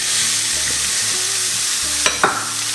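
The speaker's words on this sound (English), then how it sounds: "And let's brown the meat off now." Italian-style sausage meat, skins removed and broken up, sizzles steadily while browning in a pan, with a soft continuous fry hiss, occasional scrapes and stirs, and two sharper clatters of the utensil near the end.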